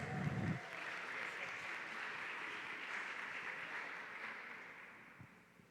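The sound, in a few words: applause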